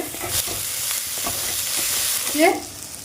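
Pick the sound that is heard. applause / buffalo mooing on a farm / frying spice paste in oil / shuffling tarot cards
frying spice paste in oil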